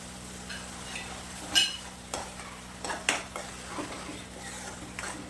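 Onions frying with ginger-chili-garlic paste in a pan over a medium flame for pav bhaji: a soft sizzle broken by intermittent spatula scrapes and taps, close and fairly quiet.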